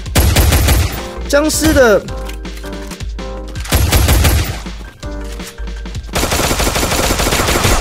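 Pistol fire in the zombie mode of the mobile battle royale game Free Fire, sharp repeated shots in quick bursts mixed with game effects and music, with someone talking over the action.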